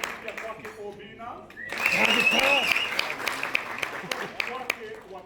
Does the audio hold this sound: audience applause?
yes